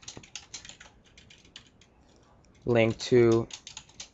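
Fingers tap a computer keyboard in quick, light bursts of clicks, close and fairly quiet, before someone briefly speaks over a pause in the typing.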